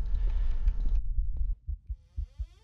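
Low, muffled heartbeat thumps pulse slowly in a haunted hotel video game, several soft beats following a droning hum that stops abruptly.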